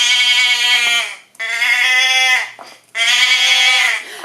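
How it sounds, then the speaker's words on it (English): Three long, loud, wavering bleats follow one another closely, sounding like a sheep or goat calling up close with nothing else heard. "the sheep maaing"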